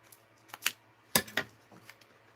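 Several sharp scissor snips and clicks cut into a thrifted dress and suit, close and separate, spaced irregularly with quiet gaps between them.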